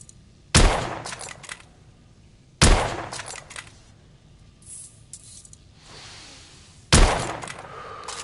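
Gunfire from a weapon in the Victorian-era shooter The Order: 1886. Three sharp, loud single shots ring out at spaced intervals, each with a short ringing tail, and a faint hiss sounds between them.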